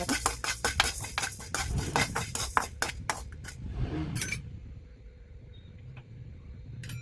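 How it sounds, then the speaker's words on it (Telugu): Coriander seeds being dry-roasted in a pan for a chukka kura chutney: rapid scratchy stirring and clinks against the metal for several seconds, then quieter light rattling, with no talking. "ఫస్ట్ ధనియాలు వేసుకోవాలి"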